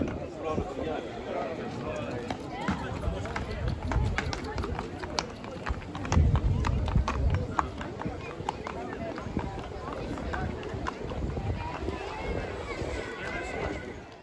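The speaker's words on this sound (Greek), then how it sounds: "Και αυτό ένα νέο άλογο." Horses move about at a horse beauty show during a village festival on Lesbos, with faint hoof clip-clops and occasional whinnies under continuous announcer speech and crowd noise.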